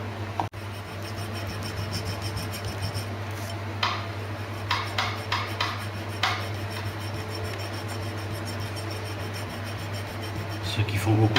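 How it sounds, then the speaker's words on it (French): Hand file rasping over pattern-welded steel set with gold wire inlay, faint scraping strokes in short irregular bursts over a steady electrical hum, quiet and close. "Maintenant, il faut que je lime."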